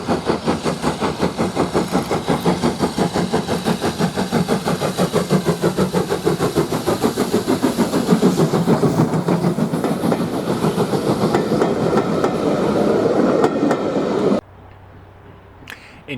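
Caledonian Railway steam tank locomotive 55189 working hard uphill across a viaduct, with a loud, steady rapid exhaust beat and rolling wheel rumble sustained close by, cutting off abruptly near the end.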